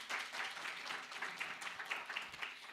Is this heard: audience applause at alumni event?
yes